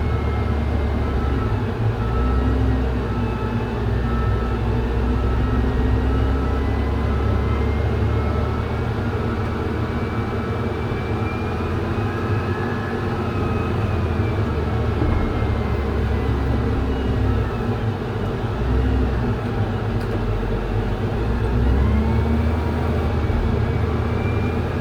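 A pay loader's engine backing up during snow removal, a steady loud diesel drone with low rumble that holds constant throughout, no voices over it.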